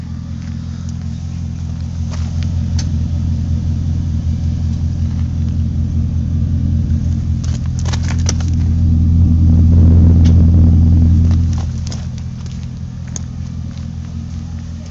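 Chevy Silverado pickup fitted with a stainless steel cat-back exhaust idling, a steady deep low rumble that swells louder for a few seconds mid-way before settling back, close and alone.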